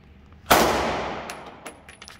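A single loud gunshot cracks at an indoor shooting range, followed by a long ringing decay with faint clinks and reports behind it.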